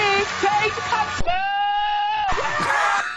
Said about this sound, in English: They actually insert a goat.